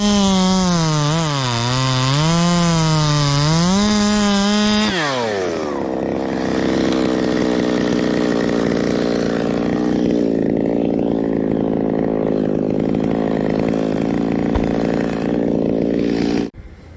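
Stihl MS261 chainsaw running close by, revving high with wavering pitch, then dropping to a steady idle that holds for several seconds before cutting off.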